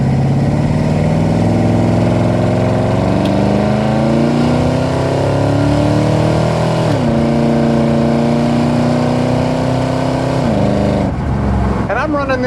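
A modified 1993 Ford SVT Lightning pickup with a 351 V8 and automatic transmission revs under boost, engine pitch climbing steadily, dropping as it shifts, then rising again, loud and close from inside the cab.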